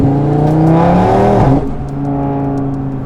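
Stage 2 tuned Audi RS3 with weight reduction, bucket seats and TCU tune, engine note climbing loudly under hard acceleration, a sharp drop at a gear change, then building again, close and continuous.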